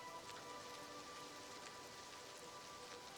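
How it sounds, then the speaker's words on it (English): Steady rain hisses in the Oblivion Remastered video game, a dense, even downpour with scattered droplet ticks and no voices, constant from start to finish. "What is that rain effect?"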